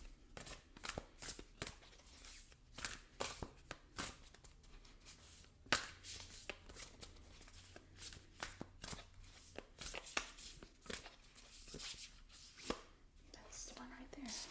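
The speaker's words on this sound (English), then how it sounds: "These are really big, they're hard to shuffle." Rapid papery riffling and soft slaps of large, oversized oracle cards being shuffled, in repeated bursts over about fifteen seconds, close and moderately quiet.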